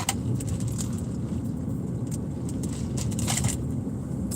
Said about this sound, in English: Yeah, I'm stuck in traffic over here.